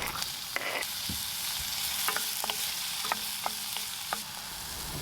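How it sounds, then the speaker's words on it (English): Chopped brown onion sweating in oil in a hot pot makes a steady, close sizzle, with a few light utensil clicks and scrapes from stirring, and no talking. "Add oil to a hot pot and start sweating the onions."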